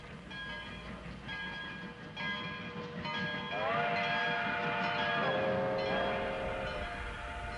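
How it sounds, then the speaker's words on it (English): A train rolls along in a 1930s or 1940s film scene, its steady rumble joined by a drawn-out whistle or horn with rising and falling pitch partway through. "More trains."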